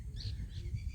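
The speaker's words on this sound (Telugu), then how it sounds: "రామచిలుకలు." Parakeets call over a green paddy crop, with two or three shrill chirps in quick succession above a steady low outdoor rumble.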